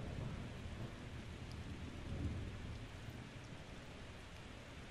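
Steady rain hisses evenly throughout while low thunder rumbles underneath, swelling briefly in the middle; no voices. Game audio from Daymare: 1998.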